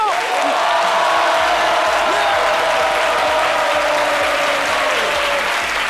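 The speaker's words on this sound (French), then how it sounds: "Merci d'applaudir Jean-Michel Ona, Marie-Paul Adjé et Dr Philo." Loud, sustained applause from an audience, dense clapping that stays steady for several seconds.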